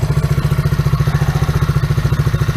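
A 2008 Suzuki DR200 motorcycle engine, unused for a year, runs steadily as it warms up, a close, rapid and even single-cylinder thump with clattering mechanical noise throughout.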